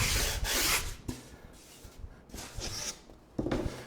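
Rubbing along the edges of wooden cabinet backing, a soft, close, dry scuffing in several short strokes with brief pauses between them.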